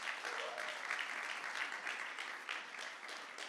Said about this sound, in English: please round of applause for the Unity and Struggle organizing team